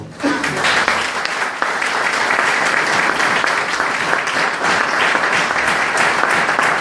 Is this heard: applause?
yes